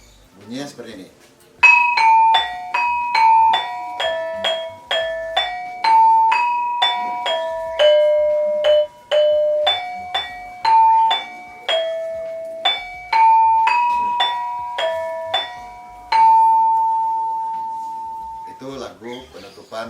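Cirebon gamelan plays the closing part of lagu gonjing, bright struck bronze tones sounding one after another in an even melodic line, each ringing out, ending on a long sustained note with a brief rustle after.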